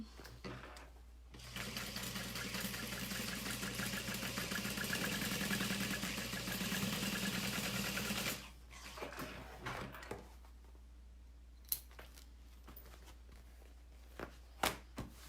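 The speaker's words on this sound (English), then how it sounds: "then I'm going to baste along the top" Sewing machine stitching a basting line along the top edge of a fabric saddle bag, a steady mechanical whir running about seven seconds before stopping, followed by quiet handling clicks.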